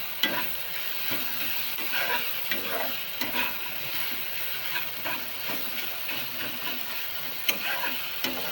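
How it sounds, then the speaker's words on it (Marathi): Brinjal (eggplant) frying in a little oil in a pan for masala vangi bhaji: a low, steady sizzle with repeated scraping stirs and light clinks of the spoon, close up and with no voices. "चांगलं भाजायचं. तेल कमी टाकलंय थोडं."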